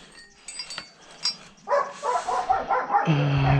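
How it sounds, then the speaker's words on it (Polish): A dog yaps and barks at home in a quick, uneven run of loud barks. A few light glassy clinks come first, and no one talks. "pies niestety u siebie i ujada"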